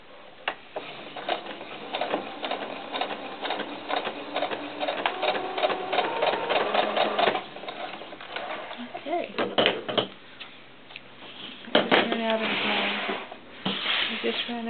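A sewing machine stitches fabric for a doll barrette, tulle included, with quick mechanical clatter in uneven bursts and short pauses, while a voice talks over it.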